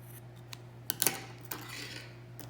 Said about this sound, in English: Then I'm going to snip them off.